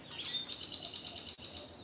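Birds chirp in a steady high twittering run through a brief moment during a solar eclipse, fairly close and clear with no talk.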